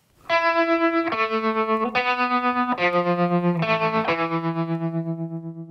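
An electric piano played through fuzz and tremolo effects sounds a slow sequence of sustained chords, each held with a pulsing, wavering volume and a gritty edge, the last one ringing out and fading.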